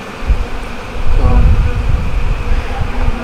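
Bees buzz around a wild bee tree full of honeycomb, a dense, continuous droning hum that swells and dips, heard up close outdoors.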